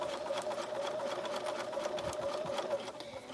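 A domestic sewing machine stitches fabric for a neck pillow, giving a continuous close whirring motor hum with rapid needle chatter, steady and alone for a few seconds.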